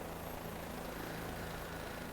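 A Bell 407 helicopter flying in Microsoft Flight Simulator 2020 over Japan, heard as a steady, dense engine and rotor roar with a constant drone, loud and unbroken throughout.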